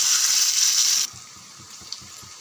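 A steady gush of tamarind water pouring into a pot for about a second, then stopping abruptly, leaving quiet room tone with a faint clink.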